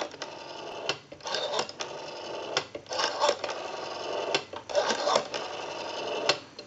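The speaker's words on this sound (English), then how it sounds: "We have a nice smooth return on our rotary dial now." The rotary dial of a Western Electric 500 telephone under repair spins and whirs back in a steady mechanical buzz with rapid clicking, heard close and continuous for several seconds.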